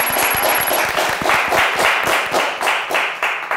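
A studio audience at a Turkish TV word-game show bursts into strong applause, dense rapid clapping that stays loud and steady throughout.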